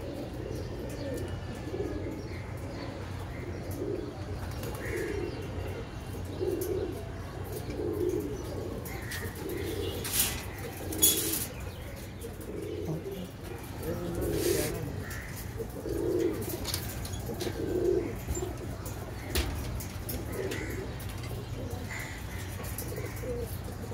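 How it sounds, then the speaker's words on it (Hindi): Kaldum low-flyer Madras pigeons coo steadily in a soft, repeating rhythm nearby, over a low constant hum, with a few faint chirps and brief rustles. "ये कल्दुमा लो फ्लायर मद्रास कबूतर,"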